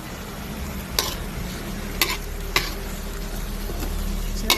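Squid adobo stirred with soy sauce and vinegar in a hot pan, a steady frying sizzle punctuated by several sharp clacks of a utensil against the pan.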